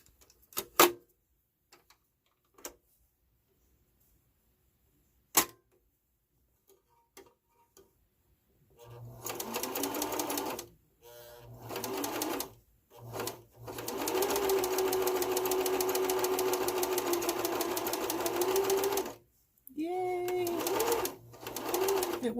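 Sewing machine stitching a stand mixer cover: a few scattered clicks and taps at first, then the machine runs in long steady whirring bursts with short stops between, close and clear.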